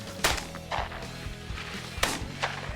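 Two sharp, loud shotgun cracks about two seconds apart ring out outdoors during a pheasant hunt, with a couple of fainter pops following each.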